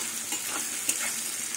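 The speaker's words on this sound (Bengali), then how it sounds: "এবার রসুনটা একটু ভেজে নেব।" Crushed garlic, eight to ten cloves, frying in a pan after onions: a steady close sizzle with faint crackles, alone and continuous.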